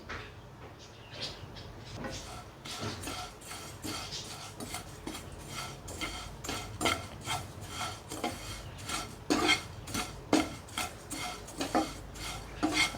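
Poha and dry coconut roasting in ghee in a pan, with a spoon scraping and stirring against the metal in a series of rhythmic, moderately loud strokes that build toward the end; no one speaks.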